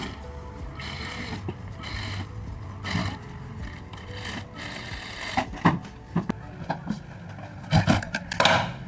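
A sewing machine stitches a katori blouse in quick, intermittent bursts of mechanical whirring, separated by short pauses and handling noises, close up and moderately loud.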